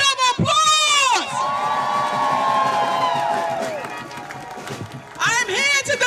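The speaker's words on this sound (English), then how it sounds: "Give yourselves a round of applause." A rally crowd in Kingston, New York claps and cheers loudly. Shrill whoops and shouts rise at the start and again near the end, with a steady roar of voices sustained in between.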